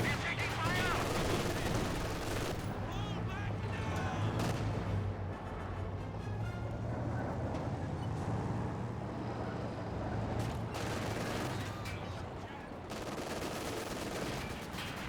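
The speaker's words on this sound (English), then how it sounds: "Conscripts getting hit by the MG" Machine gun fire rattles without a break through a Company of Heroes 2 battle, loud and dense, with bursts of gunfire layered over a steady low battlefield rumble.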